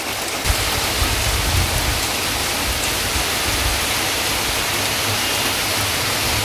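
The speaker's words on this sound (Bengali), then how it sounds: "ভালো বৃষ্টি হচ্ছে।" Heavy rain falls steadily outdoors, a dense, loud hiss of downpour that holds constant without a break.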